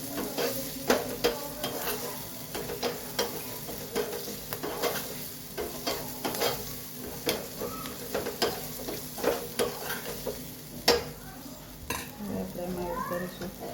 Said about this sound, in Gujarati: સરસ મિક્સ કરી દઈએ.